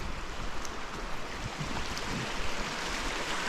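Prairie Creek in Kananaskis rushes beside a hiking trail, a faint, steady wash of flowing water with no voices.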